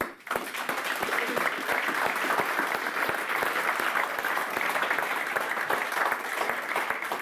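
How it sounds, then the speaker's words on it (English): A large audience gives sustained applause for four candidates at an evening event about hosting a ski world championship, steady dense clapping throughout with no speech. "So we should give all 4 candidates a big round of applause."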